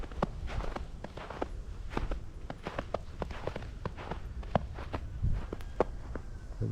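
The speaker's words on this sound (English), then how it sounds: "The footsteps right there." Footsteps crunch outdoors in a front yard during a Houston blizzard, a steady walking rhythm of close, distinct steps over quiet background noise.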